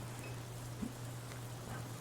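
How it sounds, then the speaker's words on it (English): Steady hiss of a rain downpour in the video game NORCO, a continuous dense wash with a faint low hum beneath, no voices. "The downpour finds its way into the drainage canal, its water level slowly rising."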